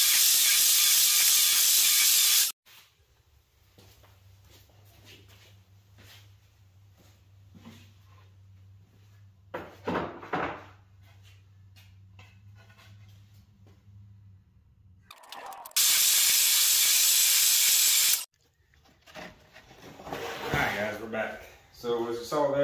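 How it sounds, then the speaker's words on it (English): A power saw rips down the edges of wooden boards for DIY planter boxes, two loud bursts of broadband cutting noise at the start and again later, with quieter shop sounds and a low hum between. "let's get these boards ripped"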